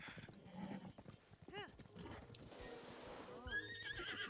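A horse in Zelda Breath of the Wild gives a loud, wavering neigh alongside clip-clopping hooves, with game ambience and faint talk in the background.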